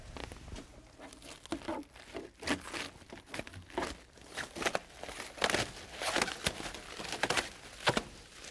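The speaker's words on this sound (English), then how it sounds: "We'll start in the back and we'll cut the shrink wrap." Shrink wrap being cut and pulled off a Genie AWP aerial work platform lift, with a continuous close crinkling and tearing of plastic film in irregular bursts and no talking.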